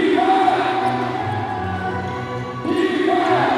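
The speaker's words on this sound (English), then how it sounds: "Crowd chants defense." A basketball crowd in an ABL game between CLS Knights Indonesia and Saigon Heat chants defense: a loud, rhythmic mass of voices filling the arena, swelling again near the end.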